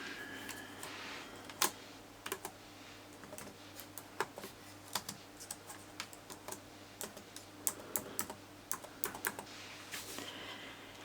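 Someone types on a computer keyboard with a quiet, irregular run of close key clicks and taps over low room hum.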